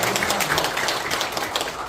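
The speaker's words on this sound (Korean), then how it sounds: "우리 감사와 영광의 박수 함께 드려보겠습니다." A congregation claps together in thanks during a Thanksgiving Sunday church service, a dense, even wash of applause filling the room without a break, with no talk over it.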